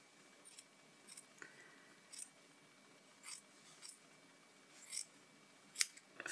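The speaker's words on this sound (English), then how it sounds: "Find the sharpest scissors you can." Sharp scissors snipping through yarn while trimming a pom pom: a series of quiet, irregularly spaced cuts close by, ending with one louder, crisp snip.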